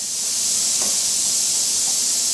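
Star San sanitizer sprayed from a bottle onto a can-filling tray during a homebrew canning session, a steady close hissing spray lasting throughout with no talk.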